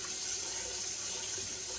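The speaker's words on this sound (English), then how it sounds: "So just going to rinse the rice" Rice is rinsed in a bowl under a running kitchen tap, a close, continuous splash of water filling and churning with no voices.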